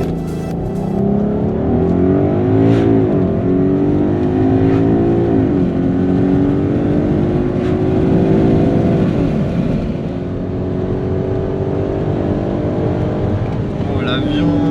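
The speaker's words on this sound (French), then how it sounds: "Frein, et on accélère à fond." A VW Passat R36 with a 3.6-litre engine launches under launch control at full throttle, its loud, droning note climbing and dropping through successive gear shifts from inside the cabin while occupants talk over it.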